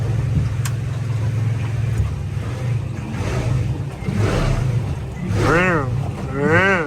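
A Tesla-powered jetboat cruising at low speed, its steady low drone and water wash running throughout while a rising and falling whine surges twice near the end.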